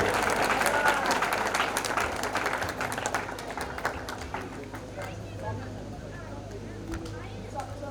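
Crowd applause at a prize distribution ceremony, many hands clapping loudly at first and then thinning and fading as the seconds pass, with a faint voice in the background.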